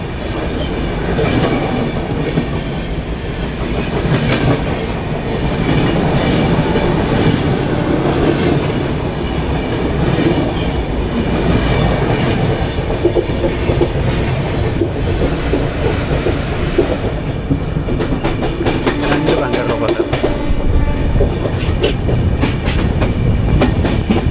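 The Deccan Queen express runs from Pune to Mumbai with a loud, steady rumble of wheels on rail and rhythmic clickety-clack. Occasional squeals sound close by inside the moving train.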